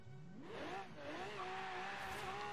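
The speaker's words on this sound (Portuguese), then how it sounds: "Arrancar com esse carro" A Lamborghini in the Test Drive racing game pulls away and accelerates, its engine note climbing steadily in pitch through quick gear changes, with a faint tire squeal, loud and continuous with no talking.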